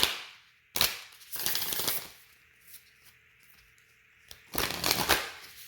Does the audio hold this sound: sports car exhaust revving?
no